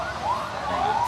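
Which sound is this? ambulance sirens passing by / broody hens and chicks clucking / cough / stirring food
ambulance sirens passing by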